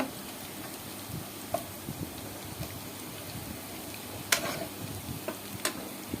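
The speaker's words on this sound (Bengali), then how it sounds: "একটু নাড়াচাড়া করে বাদামি কালার করে নিলাম।" Food is stirred as it fries in a pan until browned, with a faint continuous sizzle under occasional light scrapes and sharp clicks of a utensil against the pan.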